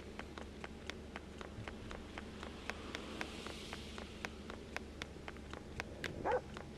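A dog barks in the Japanese horror game Yomawari 3: faint, sparse barks and yips sound over a quiet, ticking night ambience, with a slightly louder yelp near the end.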